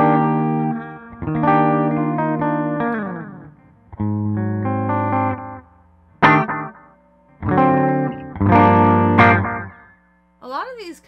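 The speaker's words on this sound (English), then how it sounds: "Echo based on the DM2." Electric guitar through a Line 6 POD Go with a DM2-style echo delay at a high mix: several strummed chords and short phrases, each followed by repeating echoes that trail off, with brief gaps and no voices.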